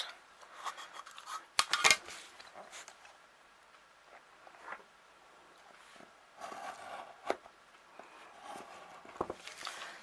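Scissors cutting across paper for a handmade mini album, a few quiet close snips and rustles scattered among soft handling noises in a quiet room, with no talk.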